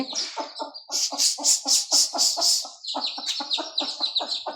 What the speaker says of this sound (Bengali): আমাদের মুরগির বাচ্চাগুলো এখানে ঘরে চলে আসছে